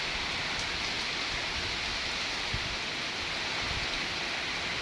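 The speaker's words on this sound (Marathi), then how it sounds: "कसला पाऊस चाललाय" Steady rain falls outdoors, a dense, constant hiss of drops that holds at an even loudness throughout with no talking.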